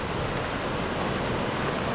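Ocean surf rolls below a cliffside campground in Baja California, a steady broadband wash of waves with no pauses, fairly close and even in loudness.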